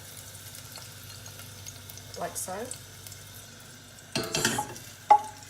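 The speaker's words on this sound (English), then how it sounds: "I'll just let it sizzle" Soft sizzling of pressed garlic frying in hot oil, with brief stirring and clatter, while a person speaks briefly nearby.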